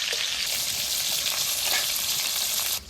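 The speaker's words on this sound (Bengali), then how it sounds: "মাছটা ভাজা হয়ে গেছে, তুলে নেবো।" Fish fries in hot oil with a loud, dense, continuous sizzle that cuts off abruptly near the end.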